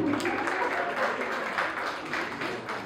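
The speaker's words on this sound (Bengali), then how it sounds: "একটু জোরে হাততালি হবে কি?" An audience at a thanksgiving and felicitation programme gives a brief burst of applause, a dense patter of many hands clapping at moderate level for a few seconds.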